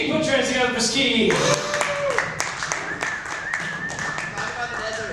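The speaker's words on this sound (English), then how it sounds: "Put your hands together for Ski." A handful of distinct claps from a small open mic bar crowd welcoming a performer named Ski, scattered hand slaps mixed under ongoing talk and background voices.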